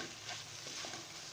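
Masala with tomatoes stirred and frying in a pan, a soft steady sizzle with faint scraping, close but quiet and brief, no voices.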